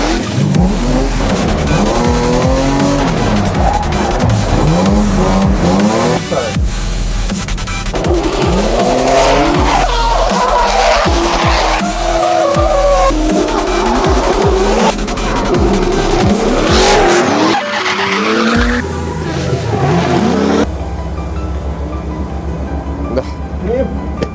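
Drift cars skid past on a track during a drift training session, with long tire squeals and roaring, revving engines, loud and close, while voices talk over the noise.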